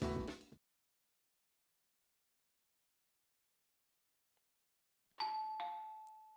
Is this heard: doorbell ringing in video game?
yes